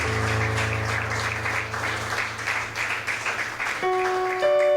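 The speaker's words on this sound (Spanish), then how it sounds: "Le damos un aplauso al Señor." A congregation applauding during a church sermon, continuous broad clapping under a sustained organ or keyboard chord that shifts near the end.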